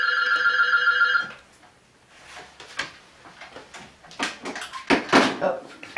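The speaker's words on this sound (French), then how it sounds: "Hop, téléphone." A telephone rings with a steady electronic tone for about a second, then stops, followed by soft handling noises and a voice speaking quietly in a home setting.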